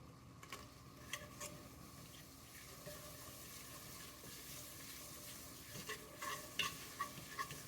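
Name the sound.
stirring Japanese white stew in a pot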